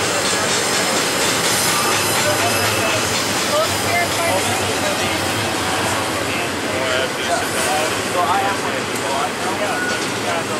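A BNSF eastbound stack freight train led by a warbonnet locomotive rolls past at Crozier, Arizona, a loud continuous rumble of wheels and cars with faint squeals, while people talk over it.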